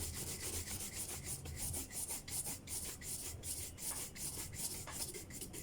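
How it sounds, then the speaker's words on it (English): A shoe being rubbed with a cloth or brush to polish it, a continuous close scratchy rubbing with rhythmic strokes and no talking. "rubbing with this one would give it some extra shine."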